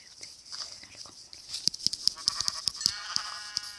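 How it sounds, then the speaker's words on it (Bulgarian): Several sheep bleat nearby outdoors, a string of short wavering cries in quick succession over faint background rustle, moderately loud and with no talk. "Овце."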